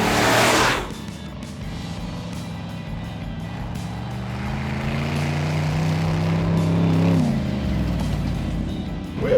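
A rock crawler running in two-wheel drive on Oregon sand dunes, its engine revving steadily and rising to a loud, sustained roar with wheels spinning, then dropping off near the end.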